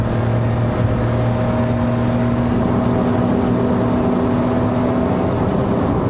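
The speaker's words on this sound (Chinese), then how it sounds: "我一脚油门下。" A Perodua Kenari small MPV accelerates hard on a highway, its strained engine droning loudly and steadily with heavy wind rush building around the cabin, heard from inside without talk.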